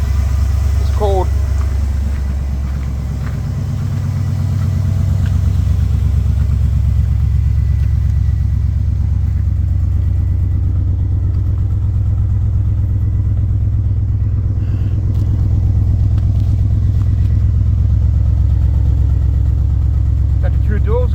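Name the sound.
2000 GMC 2500 truck engine running after cold start, true dual exhaust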